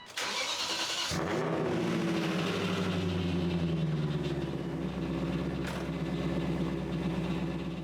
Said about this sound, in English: we would get to enjoy the melodic sounds of the V8